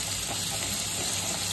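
Onion and peas frying in a pan, a steady, dense sizzle that holds at an even level throughout with no talking.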